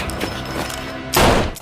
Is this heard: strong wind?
no